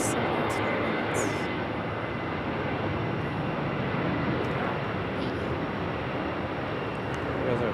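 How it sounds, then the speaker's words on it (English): A Delta Boeing 737 airliner at Raleigh Durham airport gives off a steady, broadband jet roar that holds loud and even across the whole stretch, with faint higher hiss on top. "There's our 737 headed back to Atlanta"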